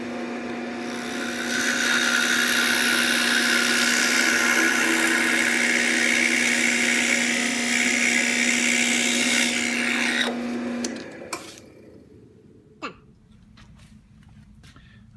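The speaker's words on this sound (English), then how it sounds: "we're going to drill through 4 pieces at a time, so we get a nice straight hole." A drill press whines steadily as the bit grinds through four stacked wooden pieces for a folding stool for about ten seconds, then winds down, followed by a few knocks and clatters.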